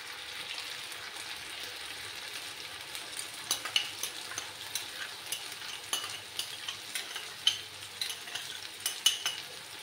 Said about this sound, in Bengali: সেই সর্ষে বাটাটা দিয়ে দিচ্ছি